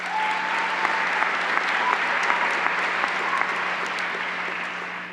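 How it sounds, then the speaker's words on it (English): Applause from a large audience at a university commencement ceremony in Nevada rolls on steadily for about five seconds. The dense clapping is close and loud, with a faint steady hum beneath it. "Let's give them a big round of applause, please."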